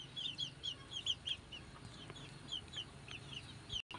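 A flock of thirteen F1 red junglefowl chicks peeps close by, with rapid, high, repeated chirps overlapping in an uneven rhythm over a soft background hum.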